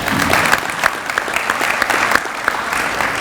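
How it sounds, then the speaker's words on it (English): Hall of Fame banquet audience clapping for an honoree, a short burst of lively crowd applause with sharp individual claps close by, steady and full for a few seconds. "yeah, go ahead, you can clap for him."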